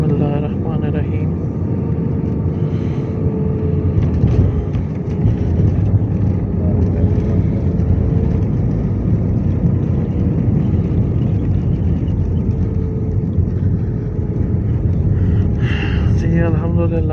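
Loud, steady roar of a passenger airplane on its landing approach to Lahore, a dense rushing drone heard from inside the cabin throughout, with voices talking faintly over it.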